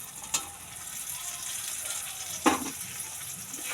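Fried potatoes tipped into a pan of paneer curry set off a low, steady sizzle, with a couple of brief splashy bursts near the start and again later. No one speaks.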